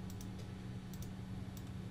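Quick, light keystrokes on a computer keyboard, a few soft clicks in short clusters over a low steady hum.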